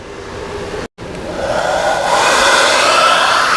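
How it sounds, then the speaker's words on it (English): A hair dryer runs off a 48 volt lithium battery inverter setup in an RV, a steady broadband whoosh that cuts out briefly, then returns and swells louder and holds, with no talking. "And with the hair dryer running,"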